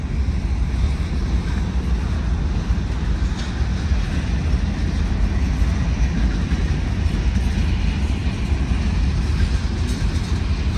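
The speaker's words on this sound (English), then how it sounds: "4 small hopper cars of Union Pacific. Oh yeah, I can literally hear the rumble." A Union Pacific freight train of small hopper cars rolls past in Dallas, Texas, as a loud, unbroken low rumble with wind-like noise that holds steady throughout.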